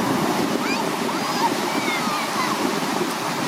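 Ocean surf washing up on a beach, a continuous close rush of breaking and receding water with steady wind noise on the microphone.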